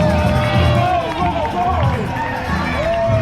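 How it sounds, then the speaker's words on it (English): Roadside spectators cheer runners at the NYC Marathon in Brooklyn: a dense, steady wall of crowd noise with shouts and whoops from many people, loud and close, continuous throughout. "here is just a really cool spot of all the people cheering you on"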